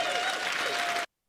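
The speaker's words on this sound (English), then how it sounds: "everybody clapping." A brief burst of dense clapping from a crowd, steady and loud, cutting off abruptly after about a second.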